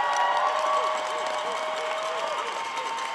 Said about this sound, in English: give a shout out and applause to all the people around you